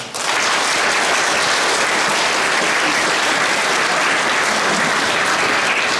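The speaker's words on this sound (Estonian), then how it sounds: "Me kõik toetame neid sõbraliku aplausiga" Steady, dense applause from a school Christmas party audience, many hands clapping continuously at an even loudness for several seconds, close and full.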